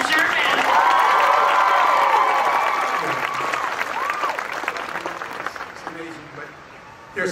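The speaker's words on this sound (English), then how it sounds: "So please a round of applause for Richard Sherman" Audience applause and cheering at Disneyland's 60th birthday celebration: loud clapping and whoops from a large crowd, with a voice calling out over it early on, gradually thinning and fading before a sudden burst at the very end.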